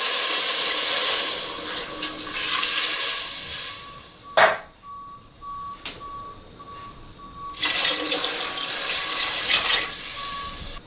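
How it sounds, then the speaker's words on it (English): Water running into a soup pot with chicken for a garlic and onion soup, a steady rushing pour that breaks off briefly around the middle and then resumes, close by with no talking. "I'm going to be adding the chicken into this pot and 6 cups of water"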